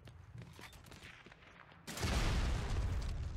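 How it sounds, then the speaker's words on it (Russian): A loud gunshot in the Heroes & Generals video game, followed by a dense, sustained roar of gunfire after a quieter stretch of faint ticks and movement. "Я не знаю, зачем я туда выстрелил"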